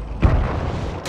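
An enemy tank in a video game is destroyed by an explosion: one deep, booming blast that hits hard, then a rumbling tail that holds for most of a second.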